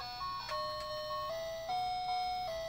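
Red toy musical bear phone chiming Turkey in the Straw, the ice cream truck tune, in clear electronic beeping notes, a steady melody played close and alone with no voices.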